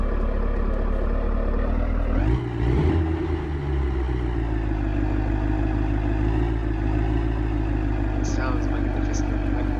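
Ford F150 SVT Lightning pickup with straight-through mufflers idling, a loud deep steady burble with a brief blip of revs early on, close to the exhaust.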